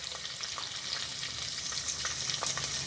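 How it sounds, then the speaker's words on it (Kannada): Crushed garlic cloves sizzling in about two spoons of hot oil with mustard seeds for a tempering, a steady bright crackle with small pops, close and moderately loud, no voices. "ಇವಾಗ ಬೆಳ್ಳುಳ್ಳಿ ಹಾಕೋತೀನಿ"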